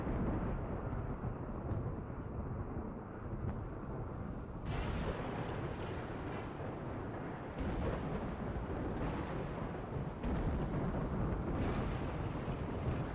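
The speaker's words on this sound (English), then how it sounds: "Goddamn storm." A roaring storm in a RimWorld game, with dense rumbling wind and rain noise that swells in steps and lasts throughout, with no talking.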